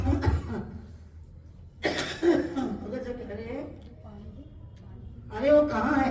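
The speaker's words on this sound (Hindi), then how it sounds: "मेरी खांसी क्या देख रहे हो?" A woman coughs during a spiritual sermon at a Holi celebration, with a couple of harsh, close bursts separated by quieter breathing and murmured voice.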